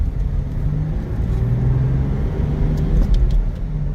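A 1979 Datsun 280ZX on a road test: a steady low engine rumble and road noise that builds slightly as the car accelerates, close and continuous with no voices.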